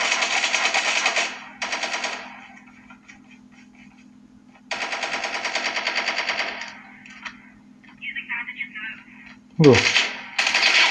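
Bursts of automatic gunfire in the mobile shooter game COD Mobile, several loud rapid volleys separated by quieter gaps, with a brief spoken exclamation near the end.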